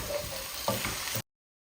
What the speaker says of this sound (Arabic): هسه راح اضيفهم على البصل، وراح ابدي اقلب المكونات كلها سوية